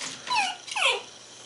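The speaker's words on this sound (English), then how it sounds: "even Kayla the dachshund is excited" A dachshund gives two close, excited whimpering yelps, each a short rising-and-falling whine, with quiet room noise around them.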